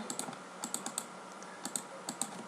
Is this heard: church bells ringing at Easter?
no